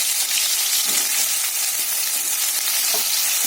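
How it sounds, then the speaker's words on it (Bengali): Eggplant pieces fry in hot oil in a pan, producing a steady, dense, close sizzle that continues evenly throughout with no one speaking. "বেগুনটা একটু লাল লাল করে ভেজে নেবো"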